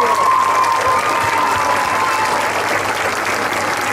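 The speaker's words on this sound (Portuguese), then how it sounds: "uma grande salva de palmas" Loud, sustained applause from a large crowd at a cultural week festival in Biscoitos, continuous clapping that stays strong throughout.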